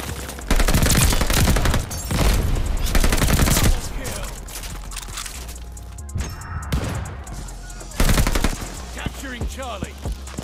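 Bursts of STG44 assault rifle fire in the shooter game Call of Duty: Vanguard, loud and close, firing in several rapid sustained volleys with a player talking over and between them.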